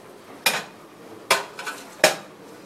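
Spinach pasta bake being moved into a bigger pot: three sharp metallic clanks of a utensil against cookware, spaced about a second apart, with faint scraping between them in a quiet kitchen.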